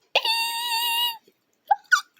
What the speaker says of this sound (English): Hiccups.